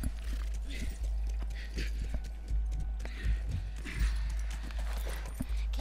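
Horse hooves clip-clop in The Last of Us Remastered, a steady run of close hoofbeats over a low rumbling game soundscape, with some talk mixed in.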